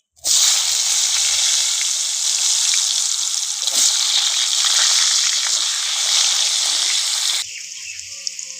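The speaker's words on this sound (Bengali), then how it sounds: "লঙ্কা আর পাঁচ ফোড়ন দিয়ে দেবো আমি আলুগুলো" Potatoes frying in hot oil with dried red chilies and panch phoron spices give a loud, steady sizzling hiss for about seven seconds before it drops to a quieter crackle.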